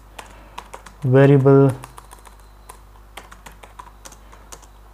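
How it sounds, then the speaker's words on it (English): Computer keyboard typing in scattered soft clicks and taps, interrupted by a brief burst of speech. "You will type here the value"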